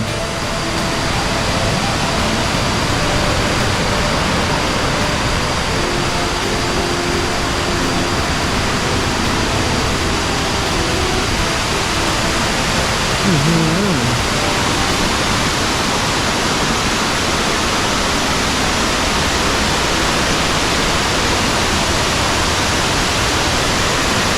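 Tat Thong waterfall in a forest near Luang Prabang, Laos, pours with a loud, unbroken broadband roar that holds steady throughout, with no voices over it.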